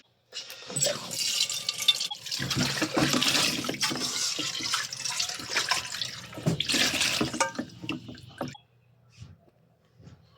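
Tap water runs steadily over food being rinsed in a kitchen sink while preparing sardines with udon noodles, a continuous close splashing stream lasting about eight seconds before it stops, leaving faint drips and small clinks.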